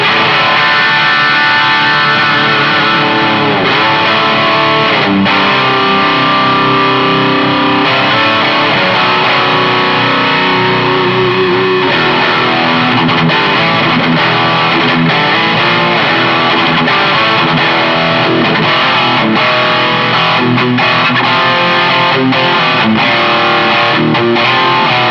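Heavily distorted electric guitar, a 1994 ESP MII Deluxe, played continuously, dense and loud, with sustained chords and shifting notes throughout.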